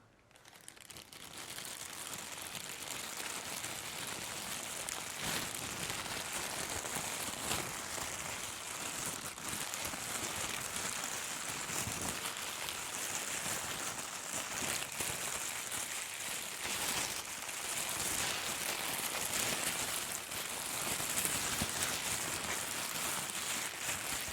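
A steady dense crackling patter like rainfall, imitated by a mimicry artist crumpling a thin plastic bag, continues for the whole stretch, even and moderately quiet, with no voices.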